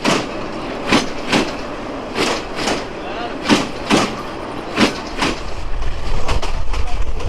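A Balaka Commuter train running at a crossing at Sreepur station in Gazipur, with recurring loud rail clatter and wheel thumps over a steady rumble that builds toward the end.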